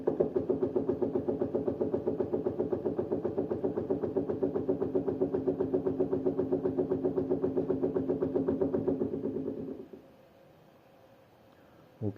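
A servo motor turns a shaft with its loop gain parameter set to 50, giving a steady rhythmic pulsing hum and knock that runs for about ten seconds, then drops to near silence before a brief sound returns.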